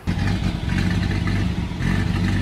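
An original flathead six car engine idles low and a little choppy, a steady near rumble with uneven low pulses running throughout and no voices over it.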